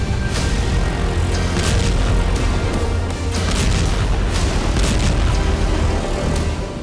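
A US B-2 bomber strike on an underground missile depot in Yemen, heard as a loud, sustained roar of explosions with repeated booming bursts and crackling debris, dense and continuous throughout with no voices.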